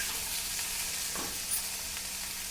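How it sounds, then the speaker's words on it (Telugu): Okra frying in a pan gives a soft, steady sizzle heard close, with a faint stir partway through and no talking. "ఇలా వేపుకుంటూ ఉండాలండి."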